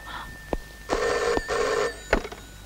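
A telephone bell rings in two loud, close bursts, with a few sharp clicks before and after.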